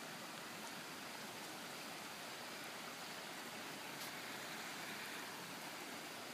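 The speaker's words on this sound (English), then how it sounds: "How long has it been since you've seen water run down here like this?" Floodwater runs down a street after flash flooding in Oklahoma in May 2015, making a steady, hissing rush of flowing water that stays even and close throughout, with no voices.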